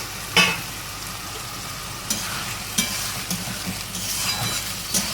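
Frozen homemade paneer pieces drop into spices frying in a pan for matar paneer, landing with sharp clattering knocks over a continuous hissing sizzle, with a few softer stirring scrapes after and no voices.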